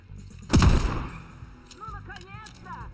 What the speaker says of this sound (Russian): Хотя после выстрела снайперки вряд ли.